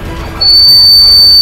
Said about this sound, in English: Taste my microphone whistle.